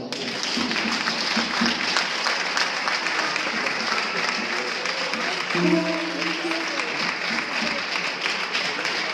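A church congregation claps steadily in a dense, sustained round of applause, loud and close, with voices mixed in and a brief sung or spoken tone partway through.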